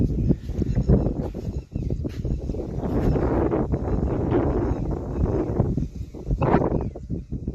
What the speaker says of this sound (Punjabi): ਹਵਾ ਚੱਲ ਰਹੀ ਹੈ ਜੀ